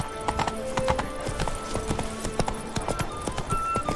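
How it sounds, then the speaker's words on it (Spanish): Horse hooves clip-clop in The Witcher 3 in a steady, brisk rhythm of close, distinct knocks over quiet ambient game tones, with no talk over it. "Lo que pasa es que aquí no voy a poder correr con el caballo."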